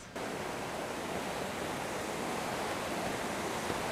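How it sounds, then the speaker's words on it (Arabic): Mountain river fed by snowmelt rushes in a steady, loud, unbroken roar of flowing water, close by and with no other sounds over it. "طبعا هذا المي جاي من سفوح الجبال، بيكون مي من ذوبان الثلج"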